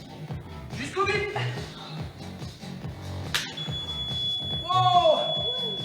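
A high, steady electronic timer beep comes on midway during a cardio and abs class and holds continuously while people talk and move around.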